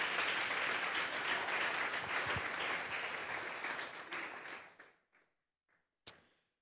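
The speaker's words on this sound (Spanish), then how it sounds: "Denle un fuerte aplauso pues al Señor" A congregation at a Sunday church service gives a strong round of applause that holds steady, then fades out after about five seconds, followed by a couple of isolated clicks.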